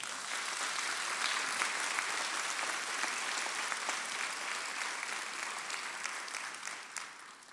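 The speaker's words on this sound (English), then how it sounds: "That deserves a clap." Sustained applause from an audience at a College of Medicine admission ceremony in Cape Town, a dense even clapping that holds steady for several seconds before tapering slightly at the end.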